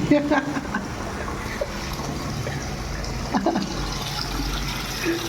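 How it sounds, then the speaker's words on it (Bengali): Water pouring down from a pipe and splashing below, a steady close gush that runs continuously with a few clinks, while someone talks over it. "এখানে হুম আর পানি পড়তে আসতেছে"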